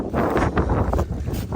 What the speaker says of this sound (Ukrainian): Тут вітер.